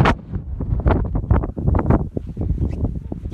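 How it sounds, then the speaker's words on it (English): Strong wind buffets the microphone on a hilltop during a snow storm, gusting in irregular rough bursts close up, with no voices. "You can hear the wind."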